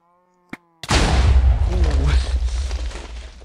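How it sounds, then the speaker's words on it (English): A creeper explodes in Minecraft, a brief hiss followed by a sudden loud booming blast that rumbles on for a couple of seconds as a voice speaks over the tail. "That was a fairly hard explosion."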